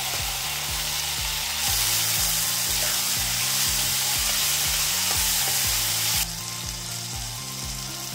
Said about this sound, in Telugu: అలానే మనం కట్ చేసుకున్న క్యాప్సికమ్ ముక్కలు వేసుకొని ఒక 5 నిమిషాల వరకు ఉడకనివ్వాలి